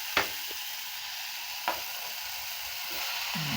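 Potato masala sizzles and fries in a pan, a steady soft hiss with a few brief clicks and stirring taps, close and fairly quiet.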